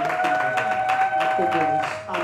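Church congregation applauding during a French-language sermon, a steady mass of clapping through the whole stretch, with a sustained organ-like tone beneath it.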